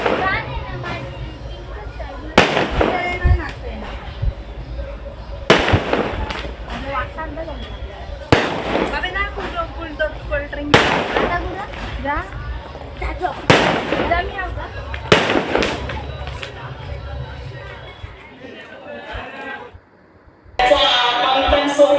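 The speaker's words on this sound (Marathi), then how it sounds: "मग निघालो आम्ही बाहेर फटाके बघायला" Firecrackers burst in a loose series of sharp, loud cracks every few seconds at a village fair palanquin procession, with crowd chatter and noise filling the gaps between them.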